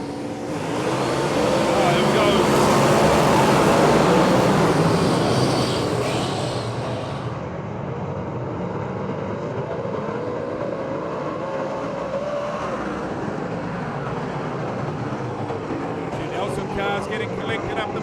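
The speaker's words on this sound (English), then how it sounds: "Cars getting collected up the main straight." Superstock race cars roar around a New Zealand speedway as the pack collects on the main straight, a loud continuous engine drone that peaks and then settles into a steadier distant rumble, with commentary over the top.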